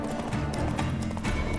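A horse's hooves clip-clop in The Witcher 3: Wild Hunt, a brief run of quick, close thuds with game ambience beneath.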